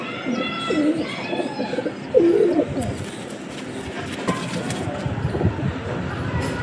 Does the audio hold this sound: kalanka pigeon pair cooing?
yes